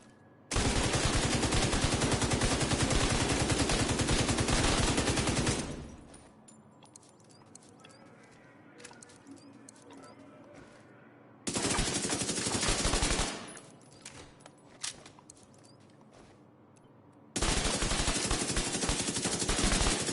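Automatic weapon fire in The Division 2 video game, loud sustained bursts of rapid gunfire in three long volleys separated by quieter gaps with faint background game sounds.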